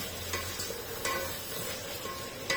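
Freshly pounded ginger-garlic paste sizzles softly in a pan with a few light stirring scrapes and faint clinks, fairly quiet and without speech.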